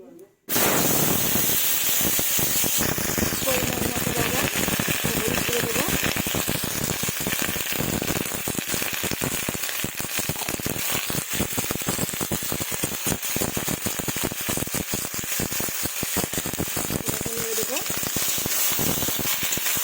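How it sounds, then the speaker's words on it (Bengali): Ground paste of chili, cumin, ginger, onion and tomato fries in hot oil in a wok, giving a steady, loud sizzle with frequent stirring scrapes that runs almost the whole time. "ওই তেলেই আমি ভেজে নেব"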